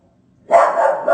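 After a brief silence, a dog lets out a close bark that trails into a second sharp yelp, with no talking.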